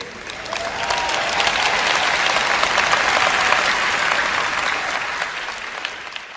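A large audience at a church sermon applauds steadily, dense clapping that rises gently and holds loud and full before easing off near the end.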